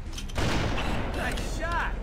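Small-calibre assault rifle gunfire in the video game Halo: Combat Evolved, a brief dense spell of shots that comes in under game sounds and some voice activity.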